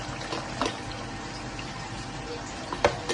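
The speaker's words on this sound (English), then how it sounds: "I'll pour 2 cups of water in my water tank" Water pours steadily into the tank of a grey Tower coffee maker, a continuous gurgling trickle up close with a few small splashes and clinks.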